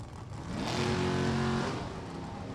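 A Super Comp drag race car's engine roars as it accelerates at a test-and-tune session at Beech Bend, the pitch rising sharply over a couple of seconds before easing off.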